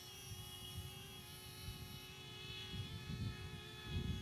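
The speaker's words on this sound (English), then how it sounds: "to have the drone land, I just hold my hand out and it'll come to me" A small DJI Flip drone flying in to land on an outstretched hand gives off a steady, high-pitched propeller whine with a low rumbling flutter beneath it, growing a little louder as it draws closer.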